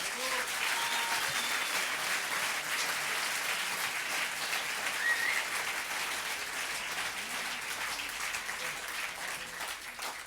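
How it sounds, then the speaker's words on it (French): A large audience at a concert under a circus tent applauds steadily and loudly, a dense wash of clapping that holds for about ten seconds without letting up. "je crois qu'on peut applaudir tout le monde très fort"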